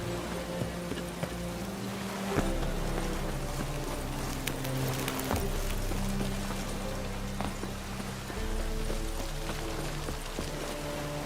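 Steady patter of rain in The Witcher 3 video game across the whole stretch, over a low droning hum with occasional soft knocks and thumps; no voices.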